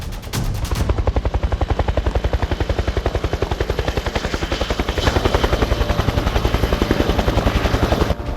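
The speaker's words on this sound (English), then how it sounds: "Those are helicopters." Helicopter rotor chopping steadily and loudly throughout, a rapid rhythmic thudding that stays close with no voices.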